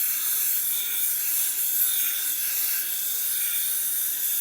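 An 80 grit diamond plate roughens a Tormek grinding wheel. It gives a steady, hissy, high-pitched rasp that runs unbroken at an even, fairly loud level, with no talking.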